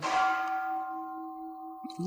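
A single meditation bell is struck once, its clear metallic tone ringing and slowly fading into silence, followed by faint movement sounds.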